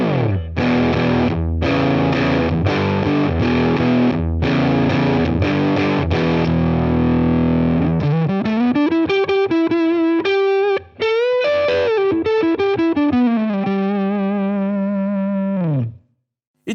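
Laney LC30-112 or LC15-110 tube guitar combo amp with gain at maximum: heavily distorted electric guitar, chugging chords first, then a sustained bending lead line that rings out before cutting off, loud and alone.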